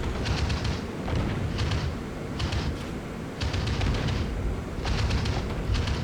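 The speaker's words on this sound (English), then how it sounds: "the combined anti-aircraft fire of both my warspite and the friendly battleship right behind me manages to drive them away" Heavy anti-aircraft fire from the battleship HMS Warspite and a nearby friendly battleship in a naval warfare game, a steady rumble of booming bursts and rapid pops continuing in clustered volleys throughout.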